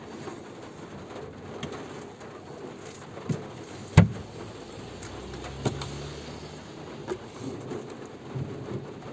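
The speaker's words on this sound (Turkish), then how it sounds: "Oo, şimşek çakıyor dışarıda." Steady rain patters outside a caravan during a thunderstorm, with a sharp nearby crack around the middle and a low rumble rolling on briefly afterward.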